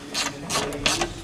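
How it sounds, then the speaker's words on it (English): A 4 mm Allen tool turns Allen head bolts while mounting a windshield on a UFORCE 1000 side-by-side, giving three close, quick ratcheting clicks in even succession with no talking. "Use the 4 millimeter to screw in those Allen head bolts."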